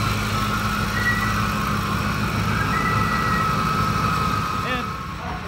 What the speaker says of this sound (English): our Ford is still warming and still idling